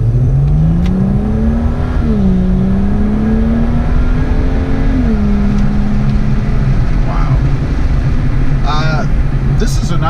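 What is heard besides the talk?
BMW 135i exhaust while accelerating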